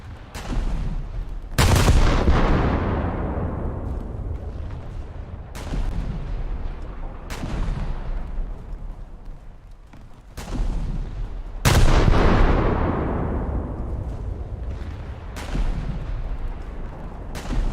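Warship main battery salvos in World of Warships: several loud booming shots spaced a few seconds apart, each with a sharp crack and long rolling decay, set against steady background rumble.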